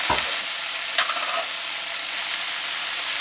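Tomatoes hit a hot pan of green bean curry, a sharp thud and splash followed by a steady, loud, close sizzle. Another stirring scrape sounds partway through, and the sizzle continues alone.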